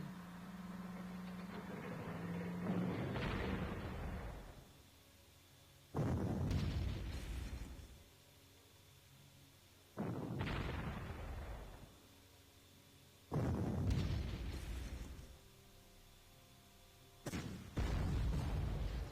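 Heavy artillery shells explode in the Panzer Corps wargame, five loud booming blasts spaced a few seconds apart, each with a long rumbling decay into quieter gaps.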